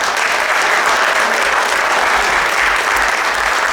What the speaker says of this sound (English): Your applause for them, please.